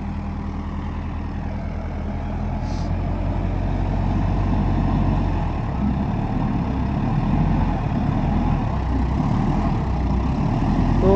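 Sonalika tractor engine labouring as it pulls through sand, a continuous low, heavy rumbling drone that grows slightly louder and rougher over time, with no voices.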